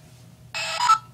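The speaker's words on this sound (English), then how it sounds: "it has that new little ringtone" A Lego Mindstorms EV3 robotics brick plays its short electronic startup tone, a bright chime lasting about half a second with a higher note at the end, over a faint background hum.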